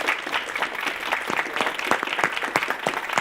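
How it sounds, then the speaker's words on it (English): A theatre audience gives the actors a warm round of applause after a Distant Observer performance, steady, crisp clapping from many hands, moderately close and continuous, without talk. "I would say a big applause for the actors and for John and Kawamura"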